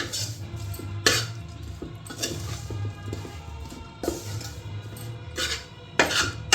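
A spoon stirs a potato biryani mixture in a pot, giving a close, steady run of metallic scrapes and clinks with several sharper knocks against the pot, no voices.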